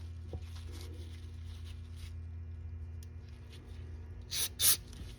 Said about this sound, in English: Main jet, spray down through the hole, both sides.